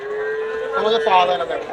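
Holstein Friesian bulls at a livestock market give a loud, drawn-out moo with a rising, wavering pitch, close by and alone, with no talking.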